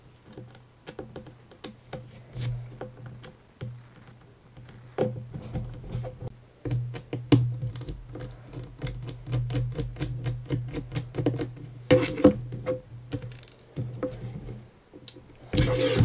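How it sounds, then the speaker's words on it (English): Tiny 00 Phillips screws are worked out of a Samsung Galaxy S4 phone, giving close, dense ticking and clicking of the screwdriver and small parts over a steady low background hum. "So let's just remove those screws first."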